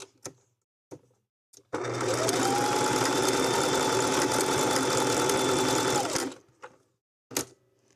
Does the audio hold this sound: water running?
no